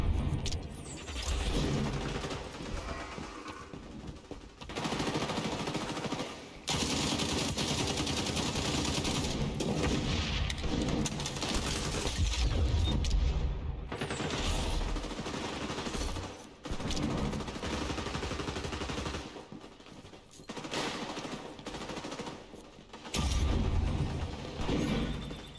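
Dense, sustained automatic gunfire in the shooter game XDefiant, long loud bursts broken by brief pauses, with clattering impacts and a constant rumbling battle din.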